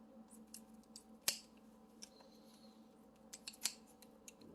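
Slices for carbonara are cut in half with quick, crisp snips, several close sharp cuts spread across a quiet kitchen moment.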